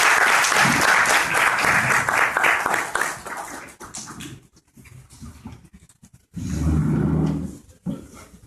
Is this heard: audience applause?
yes